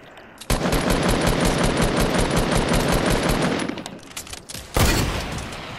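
Sustained automatic gunfire from bots in a video game, a dense rapid burst of shots lasting several seconds, trailing off into scattered pops before one more sharp loud burst near the end.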